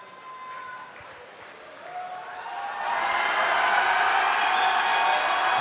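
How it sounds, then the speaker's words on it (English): French supporters at a Rubik's cube European championship team contest burst into applause and cheering, swelling from scattered claps into a loud, sustained crowd roar. "There we have the French cheering section"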